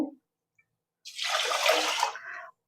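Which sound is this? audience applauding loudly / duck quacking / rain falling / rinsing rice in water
rinsing rice in water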